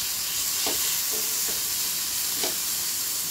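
Finely chopped tomato fries in a pan over a medium gas flame, with a constant loud sizzle broken by several scraping stirs of a spatula.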